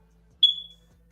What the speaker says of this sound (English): with the smoke detector chirping